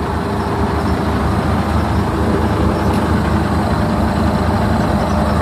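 A heavy marine armored vehicle engine idles through an SC Project exhaust with a steady, deep rumble, loud and close, holding an even throb without pause.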